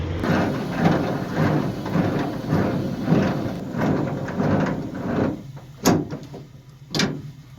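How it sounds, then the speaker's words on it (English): A semi-trailer's landing gear is cranked up by hand in a truck yard, giving a steady rhythmic grinding and clanking for several seconds, followed by a couple of sharper metallic knocks. "I'll crank the old landing gear up for the boys"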